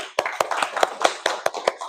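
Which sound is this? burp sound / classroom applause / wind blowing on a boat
classroom applause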